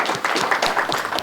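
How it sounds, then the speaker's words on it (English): An audience applauding Jeremy at a live event, a brief burst of dense, fairly loud clapping from a modest crowd. "we're going to give Jeremy another round of applause"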